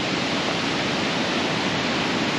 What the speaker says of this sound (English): Oh, here's the water.